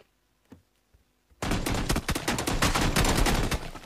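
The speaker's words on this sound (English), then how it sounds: "Stop shooting!" Sudden loud burst of rapid gunfire in the battle-royale shooter PUBG, breaking in after near silence with a few faint knocks, then sustained dense shots to the end with no talk.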